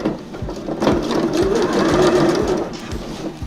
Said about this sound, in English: I always sew with the edge of the foot on the edge of the trouser leg